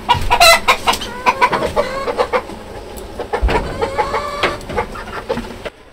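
Chickens in a village poultry shed with an egg-laying cage cluck and squawk in close, busy bursts, with one bird letting out a louder call near the start.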